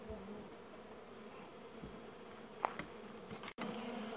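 Bees buzzing steadily around a backyard bee feeder, a continuous close insect drone with a brief louder pass partway through and a short dropout near the end.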